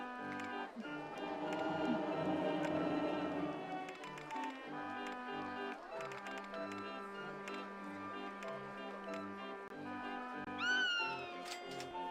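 Several cats meowing amid constant game music in Roller Coaster Tycoon, with a busy stretch of mews early on and more calls near the end, fairly clear over the background track.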